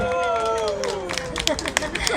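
Audience applause greets performer Sümbül Bilalova at an anniversary celebration, starting as a crowd murmur with a falling tone and building into scattered, uneven clapping over the last second and a half.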